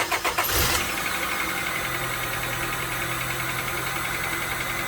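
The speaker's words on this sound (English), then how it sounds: "here's my shitbox exhaust transformation." A Honda Accord engine with a newly fitted aftermarket exhaust fires up with a brief loud bark, then settles into a steady, droning idle close to the microphone.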